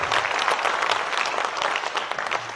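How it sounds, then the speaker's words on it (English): Live audience applause at a stream event, a dense burst of close hand-clapping sustained steadily without pause. "You might want to hold that applause."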